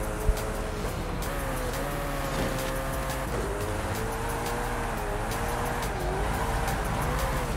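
Car driving fast in the racing game Forza Horizon 5 on a Hot Wheels track, a continuous loud engine drone with rising and falling pitch and occasional tire squeal, steady throughout with no talk.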